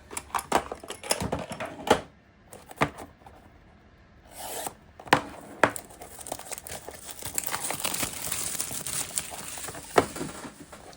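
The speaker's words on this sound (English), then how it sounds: "Let me grab something to cut the plastic." Plastic packaging around a Joy Toy zombie figure being cut open up close: irregular crinkling, scraping and snapping bursts of stiff plastic, with short pauses between them and denser rustling toward the end.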